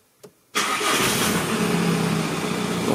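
The engine of an Audi A3 raised on a lift with its wheels off the ground cranks briefly and catches, then settles into a steady, close mid-pitched idle with a faint click just before the start.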